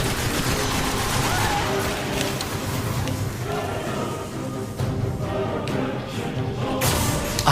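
Destiny video game combat: a grenade explosion followed by continuous gunfire and thuds, loud and dense throughout, in a busy battle mix.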